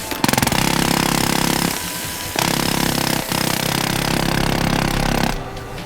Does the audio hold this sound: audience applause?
no